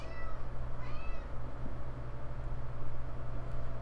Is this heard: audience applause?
no